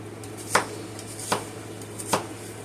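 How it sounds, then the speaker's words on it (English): A knife chops onions on a board: three sharp, separate cuts spaced under a second apart, close and clear over a steady low hum. "I'm just going to go ahead and chop up my onions"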